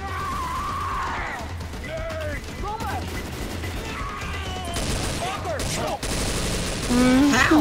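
Rapid video-game gunfire rattles in loud bursts throughout, with a voice speaking briefly over the shooting.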